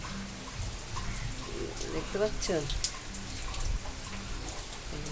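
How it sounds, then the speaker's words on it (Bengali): Rain falls in a steady hiss with a few louder drips, while a person speaks briefly over it. "বৃষ্টি পড়ছে"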